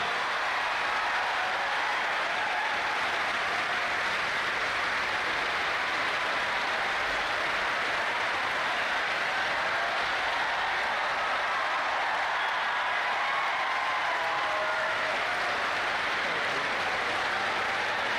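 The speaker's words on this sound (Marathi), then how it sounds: "विजय पवार सरांसाठी एकदा जोरदार टाळ्या" An audience at the opening ceremony of the Dnyanteerth Youth Festival 2025 applauds in a steady, dense wash of clapping that holds evenly for the whole stretch, broad and sustained with no clear pauses.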